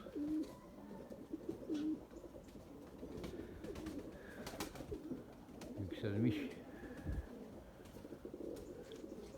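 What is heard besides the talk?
pigeons cooing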